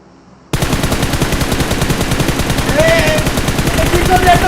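Rapid automatic gunfire from a PUBG Mobile match rattles continuously after a brief quiet start, loud, dense and sustained bursts filling the whole stretch.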